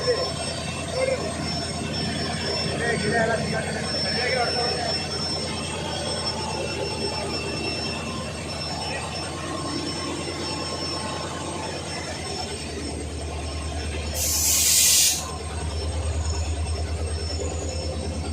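A Bengaluru–Talaguppa passenger train rolls along the tracks with a continuous rumbling drone and faint metallic squeal, joined near the end by a brief bright hiss.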